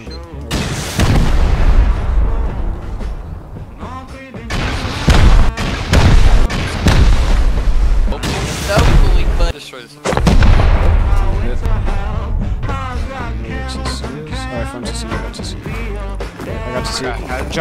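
Heavy explosive charges boom one after another against a base wall during a raid in the survival game Rust, each blast loud and close with rumbling decay, separated by brief gaps, with voices talking underneath.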